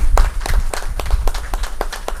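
A crowd applauding at an honorary fellows felicitation ceremony, with steady, dense clapping throughout, fairly close and loud.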